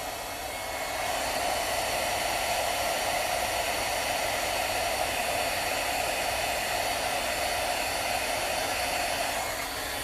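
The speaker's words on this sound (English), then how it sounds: "I got my Wagner heat gun, and I already preheated it" A preheated Wagner heat gun blows steadily while embossing a rubber-stamped image, giving a constant, even whoosh of hot air that runs close and uninterrupted for about ten seconds, with no one speaking.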